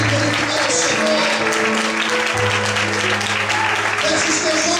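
Church congregation clapping in sustained, dense applause that holds steady and loud for several seconds, with a sustained musical tone running underneath.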